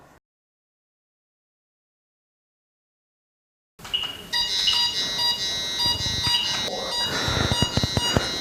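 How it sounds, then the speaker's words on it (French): Cornet ED88TPlus EMF detector alarm triggered by a nearby DECT cordless phone call: after several seconds of silence, a loud, continuous high-pitched electronic alarm tone with warbling harmonics starts abruptly and holds steady to the end. "On entend l'alarme qui nous dit qu'on dépasse 1 volt par mètre"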